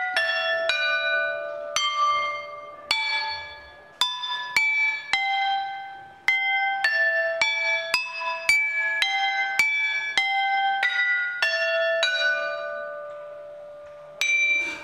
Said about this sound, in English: When it's tapped, a Lingbi rock produces a crisp, metallic sound.